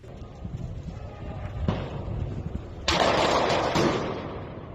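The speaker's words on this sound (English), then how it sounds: "Just some patriotic fireworks." A few loud bangs from fireworks or gunfire, with a sharp crack near the middle and a heavier burst near the end, over a constant rumbling background.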